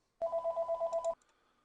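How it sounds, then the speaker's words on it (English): Telephone ringing indoors: one burst of rapid, even electronic trills lasting about a second, loud and close, then cutting off to near silence. "And now the phone's ringing and this is going to drive me crazy."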